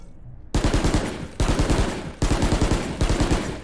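Valorant gunfire sped up by the Stim Beacon fire-rate buff comes as four loud, close, rapid automatic bursts separated by short pauses, with no talking.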